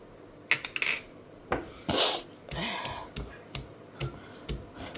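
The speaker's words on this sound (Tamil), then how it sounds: "நம்ம இப்போ வந்து இது எல்லாத்தையுமே நசுக்கிக்கலாம் இதில் போட்டு" Coriander, green chillies and garlic with tamarind and tomato are pounded and crushed in a home kitchen, giving irregular dull thumps, scrapes and grinding rubs, close by with short pauses between strokes and no talk.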